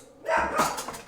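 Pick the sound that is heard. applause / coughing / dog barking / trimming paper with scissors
dog barking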